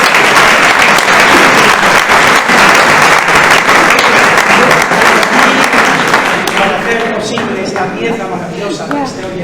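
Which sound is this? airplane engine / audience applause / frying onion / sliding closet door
audience applause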